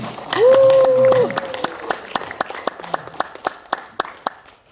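Congregation in a church service applauding after a prayer: a voice calls out briefly first, then a burst of clapping that thins into scattered, fading claps.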